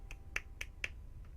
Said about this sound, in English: Don't know why I clapped.